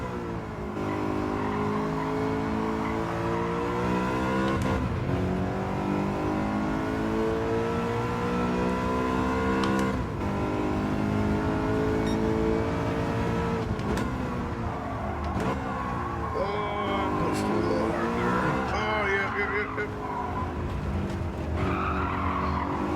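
A BMW race car engine in a racing video game roars through a time-trial lap at Autopolis, its pitch rising and falling with gear shifts, with brief tire squeals.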